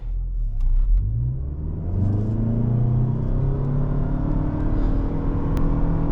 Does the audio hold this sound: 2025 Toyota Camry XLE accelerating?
yes